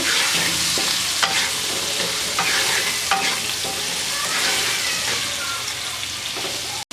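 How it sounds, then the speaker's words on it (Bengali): Potatoes fry in a pan with oil and a pinch of salt, giving a loud, continuous sizzle and crackle close up, broken by a few stirring scrapes. "এবার আলুগুলো ভেজে নেব"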